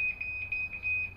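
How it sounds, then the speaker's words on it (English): Ryobi TEK4 motion sensing alarm sounding its chime, a steady high-pitched electronic tone with rapid repeated beeping pulses riding on it, loud and close with a faint low hum beneath. "But it has a chime,"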